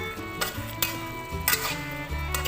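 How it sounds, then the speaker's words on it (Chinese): Hairtail fish stir-fried with minced garlic and scallions in a wok, sizzling steadily with a few sharp spatula scrapes and clanks over a sustained tonal hum, with no one talking. "翻炒几下就可以出锅啦"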